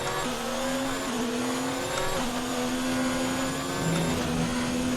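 Formula 1 race car on a hot lap at the Brazil circuit in the F1 2019 video game, its high-revving engine whining steadily with quick gear-shift steps, loud and continuous.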